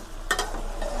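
Raw jackfruit and shrimp curry sautés in a pan with a soft, steady sizzle. Two quick scraping strokes of a spoon come close together near the start of the short moment.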